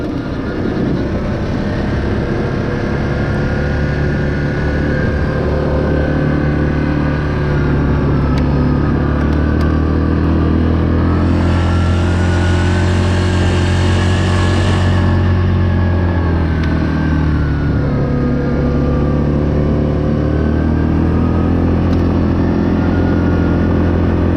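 A 2021 Yamaha Grizzly 700 SE ATV engine labors up a steep hill, a loud continuous drone holding steady with a slight rise in pitch midway and no talk.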